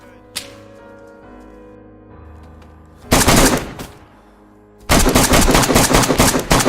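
Bursts of automatic gunfire in the DayZ video game: a lone shot, then two loud sustained volleys of rapid fire, the second running to the end.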